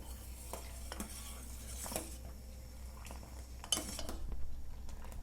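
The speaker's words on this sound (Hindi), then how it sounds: "लगातार हिलाते रहना चाहिए।" A spoon stirs rice pudding (kheer) in a pot on a medium gas flame, giving repeated faint scraping and clinking strokes with soft bubbling, heard close and alone without talk.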